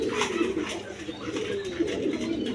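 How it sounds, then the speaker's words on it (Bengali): Pigeons at a pigeon seller's stalls coo in a low, steady murmur, overlapping calls repeating throughout with no pause. "দর্শক এখানে এক পেয়ার কবুতর আছে দেখেন"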